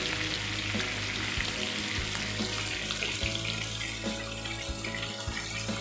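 Chicken pieces for biryani, marinated with egg, fry briefly in a pan until lightly browned, giving a steady, loud, close sizzle that runs throughout with occasional soft knocks and no talking.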